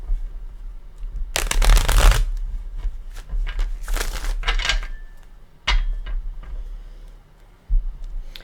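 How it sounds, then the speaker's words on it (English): A Cosmic Tarot card deck is shuffled by hand up close, with bursts of riffling and crisp card flutters, then softer taps and slides as the cards settle, without talk. "Let me give it a shuffle."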